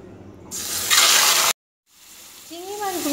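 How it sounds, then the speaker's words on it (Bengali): Shrimp dropped into hot oil give a loud burst of sizzling, then a sudden gap of silence before softer frying hiss returns with a few high tonal sweeps. "তেলটা গরম হয়ে গেছে, এবার আমি চিংড়ি মাছগুলো একটু ভেজে নেব"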